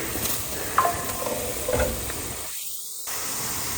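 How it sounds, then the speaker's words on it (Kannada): Curry leaves crackle and sizzle in hot oil for a mandakki (puffed rice) dish, a steady loud frying hiss with a few sharp pops, cutting out briefly near the end before the sizzle resumes. "ಸೊ ಕರಿಬೇವು ಸೊಪ್ಪು ಇವಾಗ ಹಾಕ್ತೀನಿ"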